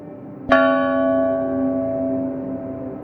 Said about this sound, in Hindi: स्कूल की घंटी बजी।